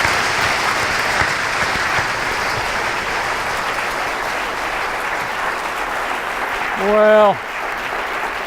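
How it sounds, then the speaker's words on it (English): Warm applause from an auditorium audience for a climate talk, sustained and even for several seconds, ending as a voice begins speaking near the close. "So please join me in giving him a warm round of applause."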